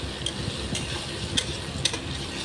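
Spatula scraping and stirring onions frying in a small kadai, soft irregular clicks and taps over a low sizzle, close and fairly quiet.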